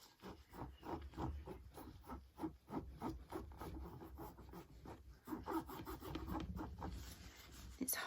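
A cloth rubs polish onto the gold hardware of a vintage Louis Vuitton Alma PM bag, making close, repeated scratchy strokes in an uneven rhythm.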